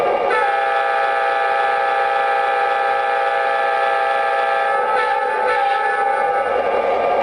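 An MTH F-7 model train horn sounds continuously, a steady multi-tone blast held for several seconds with a faint mechanical hum beneath.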